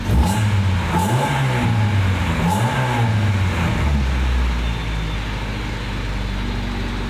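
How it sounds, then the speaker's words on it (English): A 1980s Honda CRX Si engine revs up and down a few times with a raspy, buzzy exhaust note around 3,000 rpm, then settles toward an idle; close and loud. "Oh, there's that little Honda rasp right there at 3K."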